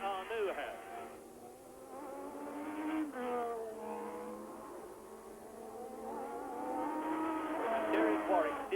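Formula One cars of the 1982 season at Imola whine past with rising and falling engine tones, faint and distant beneath a commentator's voice.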